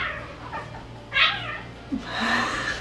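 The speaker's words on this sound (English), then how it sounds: "my cats are going crazy" Pet cats meow in short, agitated bursts, with two clear cries about a second apart and a longer one at the end, close by and fairly loud indoors.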